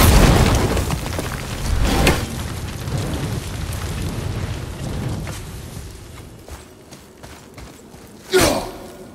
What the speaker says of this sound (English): Explosion ahead.